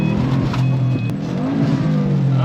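A car engine revs steadily and loudly while driving, a close, continuous drone inside the vehicle with slight pitch shifts.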